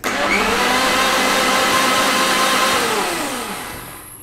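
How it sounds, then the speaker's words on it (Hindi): A blender whirs loudly and steadily while blending gram flour batter for ghewar, with its motor pitch shifting slightly, before it winds down and fades near the end. "अब इसको थोड़ी देर तक ब्लेंड करें अच्छे से"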